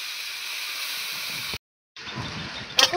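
Chopped bottle gourd hisses and steams in a pan as it is stirred, a steady close sizzle that breaks off briefly and then resumes with a scrape of the spoon.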